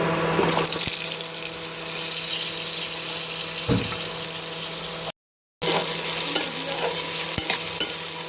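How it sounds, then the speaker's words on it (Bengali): Vegetables for Bengali shukto lightly frying in a pan, a loud continuous sizzle close by with stirring scrapes and occasional knocks, broken by a brief silent gap, no talking. "আমি ঝটপট সবজিগুলোকে যত তাড়াতাড়ি পারছিলাম হালকা করে ভেজে নিচ্ছিলাম"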